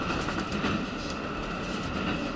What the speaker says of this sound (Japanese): 普通列車の高岡行き、12時50分、来ました。